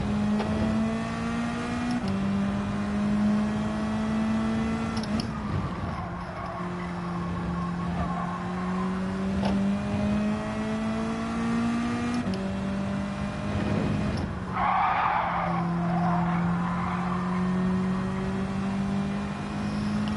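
A car brakes and its tires squeal and skid in the racing game Gran Turismo 7, with a steady engine drone and long tire screeches under it that hold on for the whole stretch.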